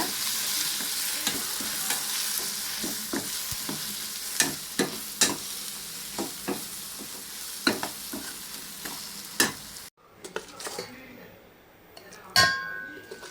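Horse gram sautéed with kuzhambu masala powder in a pan gives a steady dry sizzle with repeated spoon scrapes and clinks; the stirring stops partway and quieter clatter follows.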